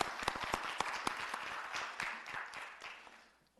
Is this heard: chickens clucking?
no